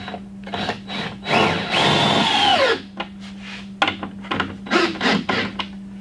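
A power drill whirs in short bursts and one longer run, grinding as it drives screws into pallet wood for an outdoor table, with a steady low hum underneath.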